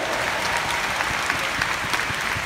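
Vigorous applause from a large audience at an annual company meeting in Hong Kong, a dense, sustained roar of clapping with occasional sharper claps standing out.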